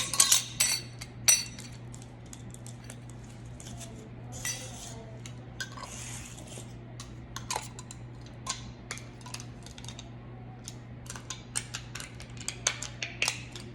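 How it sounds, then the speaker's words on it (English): Lids going onto jars of candied jalapenos in a home kitchen: scattered light metallic clinks and taps over a steady low hum, louder at the start and then continuing irregularly, with no talk. "we're gonna go ahead and add our lids"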